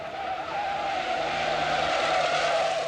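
A 1970 Volkswagen K70 is forced hard through a curve while understeering, producing a steady, loud, sustained whoosh of tyre scrub and road noise with no talking.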